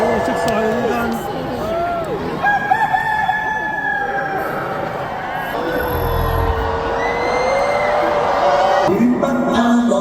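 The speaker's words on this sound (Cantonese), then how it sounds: "有雞叫啦！" A rooster crows through a large Hong Kong comedy concert hall during a show by the duo Farmer, rising and falling over steady crowd noise, cheering and people talking.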